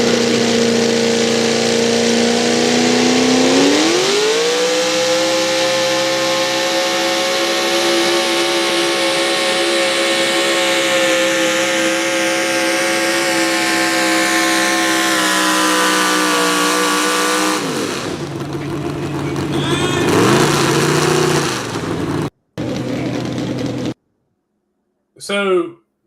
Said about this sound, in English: you kind of gave it throttle, and you were just kind of waiting for it to hook up